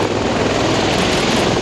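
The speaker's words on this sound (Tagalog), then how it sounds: "Sa paglanding ng helicopter sa tambuhalang warship na USS Green Bay, tanaw na tanaw ang lakas ng puwersa militar ng Estados Unidos." Military helicopter landing on the deck of the warship USS Green Bay, a steady broadband rotor and engine roar that stays loud and close throughout with no pauses.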